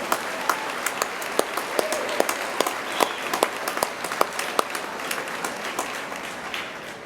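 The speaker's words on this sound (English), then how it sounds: "So let's applaud their efforts again." Audience at a university spring commencement ceremony applauds honors graduates, a sustained, even wash of many hands with crisp individual claps standing out, moderately distant and with no voices.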